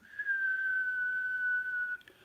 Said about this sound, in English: a long exhale through whistling